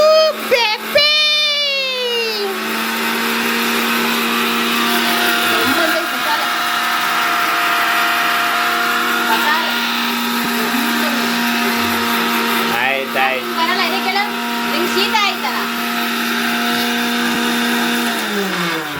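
A kitchen mixer grinder whirs as it grinds spices for pepper chicken masala, a loud, steady motor drone that holds almost to the end, with a brief voice near the start.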